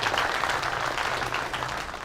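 A crowd watching a local mud-wrestling bout applauds with steady, dense clapping that holds at an even level throughout, without talk over it.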